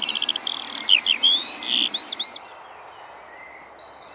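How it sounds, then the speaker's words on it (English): A skylark sings a rapid, high, warbling chain of trills and chirps, clear and fairly close, for about two seconds before fading to quiet outdoor background. "skylarks can also sing from the ground or a perch for several minutes"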